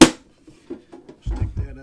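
A Pokemon tin lunch pail snaps shut with one sharp metallic clack, followed by faint handling taps and then a voice talking nearby.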